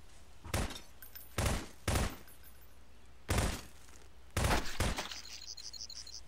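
Bursts of gunfire from the Prop Hunt video game, five or six sharp loud volleys spaced a second or so apart, with a faint electronic tone near the end.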